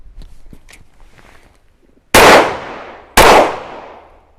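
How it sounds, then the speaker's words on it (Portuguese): Two loud, close gunshots fired at a target about a second apart, each a sharp crack with a decaying ring, preceded by quiet handling clicks and rustles. "Vamos fazer mais 2 disparos"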